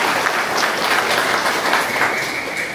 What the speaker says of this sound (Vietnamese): Chúng ta một tràng pháo tay thật lớn để chúc mừng cho anh chị năm 25 ngày cưới